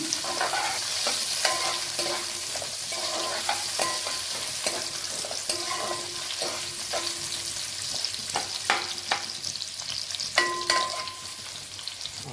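Onions and a bay leaf fry in a pan for tomato rice, sizzling loudly and steadily up close while a spatula stirs with repeated scraping strokes and metallic ringing clinks throughout.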